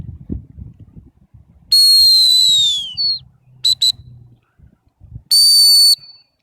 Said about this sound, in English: When she gets the call whistle, she needs to stop straight away.